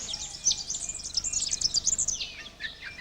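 Small wrens and a larger willy wagtail chirp and twitter around a waterhole, a dense run of quick high calls and trills close by with no voices.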